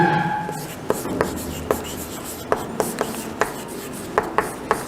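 A pen or pencil writing an answer by hand on paper during an English lesson, with short scratchy strokes and taps recurring irregularly at close range over a steady background hiss.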